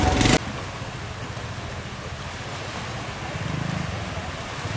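Steady rushing surf and wind noise at night on Koh Rong island, Cambodia, a continuous broad wash with a low rumble, swelling slightly toward the end; a brief louder burst at the start.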